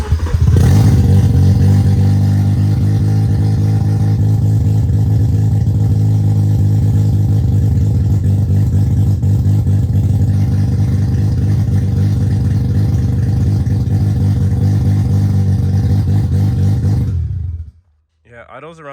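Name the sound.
Mazda FC RX7 engine starting up and idling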